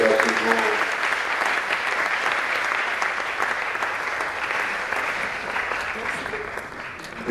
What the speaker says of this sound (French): Merci, applaudissez pour le colonel.